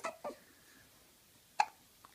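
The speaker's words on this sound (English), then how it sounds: "Hiccups." A baby hiccups softly three times, two close together at the start and one more after a long pause, faint and isolated in a quiet room.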